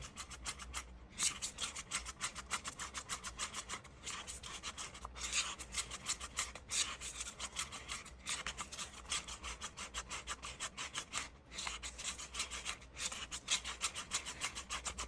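A stick scrapes and rubs rhythmically inside a cup while stirring epoxy resin mixed with mica powder, with quick repeated strokes that carry on steadily and close up, with only brief pauses.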